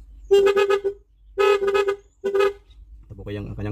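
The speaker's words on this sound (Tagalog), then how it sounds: "Ito po yung kanyang horn" A car horn is tested after a spiral horn cable replacement: three short, loud honks with pauses between, then a lower buzzing tone as the clip ends.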